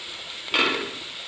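Vegetable fried rice tossed in a hot pan, with a soft sizzling hiss that swells briefly as it is stirred, then settles back to a low steady fry.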